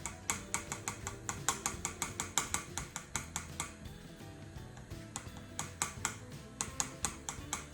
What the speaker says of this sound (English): This I'm gonna prick it all over with a knife so that it doesn't puff up like a puri